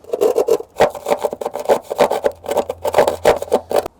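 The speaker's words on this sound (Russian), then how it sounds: "Берем нож-пилу и аккуратненько." A knife saw cuts and trims a hole for a pipe through an insulated house facade, giving a steady run of short rasping strokes, close and fairly loud, with no talking.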